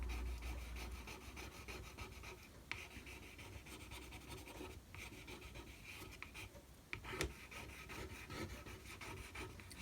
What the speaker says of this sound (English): Again, I can sort of scratch into here, so it makes the edge, where you scratch, it makes the edge of the paper fluffy